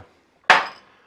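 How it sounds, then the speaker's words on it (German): A single sharp strike of a rubber mallet tapping an oil pump gear into place on an engine, a sudden loud knock with a short ringing decay, preceded by near silence. "den Gummihammer. Ich möchte das hier mal ein bisschen aufsetzen."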